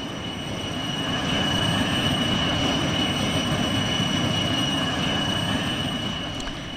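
Steady, continuous engine drone of an aircraft approaching an airport in the train simulator game Trainz 2, constant and fairly loud with a slight swell and fade, no voices.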